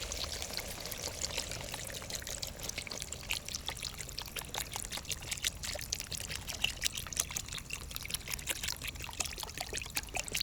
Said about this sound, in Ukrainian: додаємо води.